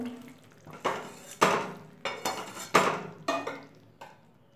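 A cooked dish of bitter gourd, potato and poppy seed paste is scraped from a pan into a bowl in a home kitchen. About seven close metallic clinks and scrapes of a utensil come in an uneven rhythm, with no talking.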